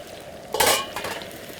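A short metallic clatter and sizzling burst as beef goes back into hot oil for a second fry toward a crispy coating for kung pao beef, rising sharply then settling into a faint crackle.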